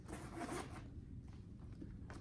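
A handbag's zipper is worked open and closed, a raspy zip near and fairly quiet, followed by a few fainter scratchy pulls.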